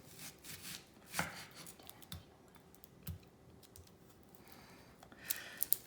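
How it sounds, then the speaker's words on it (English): A knife slices through a peeled vegetable on a cutting board, giving a few separate, fairly quiet cuts and taps with pauses between them and no talking. "I'm going to be slicing it not completely off"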